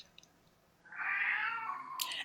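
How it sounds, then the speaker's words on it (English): A cat gives one drawn-out meow up close, rising then tailing off over about a second, followed by a brief sharp noise, with no talking. "Yeah, the cat is still here."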